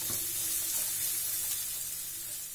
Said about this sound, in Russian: обжариваем лук на растительном масле